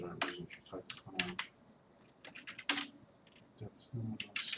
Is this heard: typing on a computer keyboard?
yes